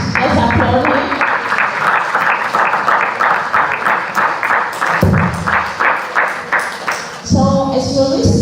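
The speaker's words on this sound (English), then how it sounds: "Let's applaud him." An audience at the AMBIZERO 2.0 event breaks into sustained applause, dense rhythmic clapping from many hands for several seconds, loud and close, briefly dipping before swelling again.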